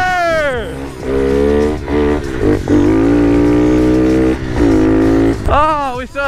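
A dirt bike engine revs hard and rises in pitch through second-gear wheelies on a muddy track, loud and close, with the revs dropping and climbing again several times and a brief shout at the start and end.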